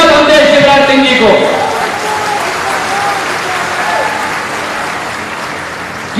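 A large crowd at a political rally breaks into loud, sustained applause that fills the space, steady clapping holding strong and then easing slightly, with a voice audible over it at the start.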